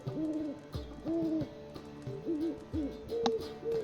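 Pet owl Poppy in The Witcher 3 gives a series of soft, hollow hoots in short repeated phrases with brief gaps, close and fairly quiet, with no talking.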